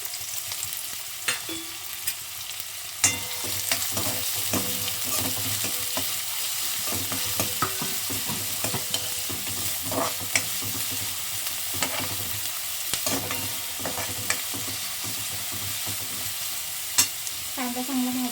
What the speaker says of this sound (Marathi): कांदा चांगला भाजू द्या